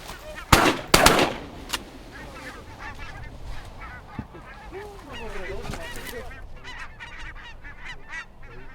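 During a barnacle goose hunt in Sweden, a quick burst of close, loud shotgun blasts goes off near the start, and a flock of geese honks steadily afterward. A faint voice is heard among the calls.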